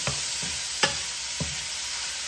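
Fresh garden bok choy stirred and fried in a pan, with a few distinct scraping stirs of the utensil spaced about half a second apart over a soft, steady sizzle.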